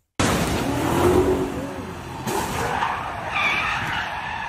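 A BMW skids and crashes into a Toyota on a New York City street in daylight, with a loud close tire screech that breaks off in a sudden impact, followed by lingering road noise.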